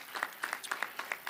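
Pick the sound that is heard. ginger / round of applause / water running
round of applause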